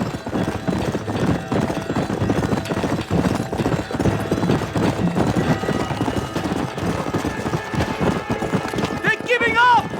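A horse galloping in Red Dead Redemption, with fast, rhythmic hoofbeats running throughout, loud and close, under a voice urging the horse on, and a whinny near the end.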